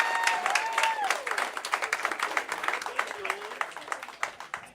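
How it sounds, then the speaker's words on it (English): Comedy club audience claps and cheers for a comedian being introduced, with dense clapping mixed with loud whoops and voices through the whole stretch. "You better give him a really good round of applause."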